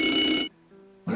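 An old 1950s telephone bell rings loudly, a bright metallic trill that cuts off into a short silence before the next ring starts abruptly.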